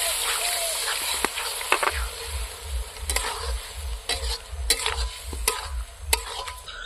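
Pork masala with Kashmiri chili powder sizzles steadily in a pan as spice-rinse water is poured in, giving a continuous frying hiss with repeated stirring scrapes throughout.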